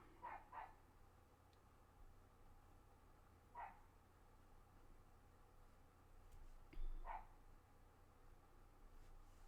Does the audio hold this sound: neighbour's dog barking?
yes